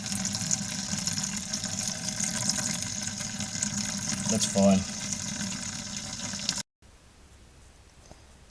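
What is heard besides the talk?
first runnings of wort draining while brewing cream ale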